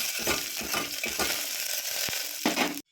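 Cumin seeds and crushed fresh coriander being stirred in a hot pan, several rhythmic scraping strokes over a light sizzle, close and moderately loud, ending abruptly.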